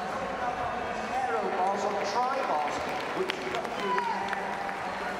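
A velodrome crowd at London 2012 Paralympic track cycling applauds and cheers in a continuous distant roar, while a commentator talks over it.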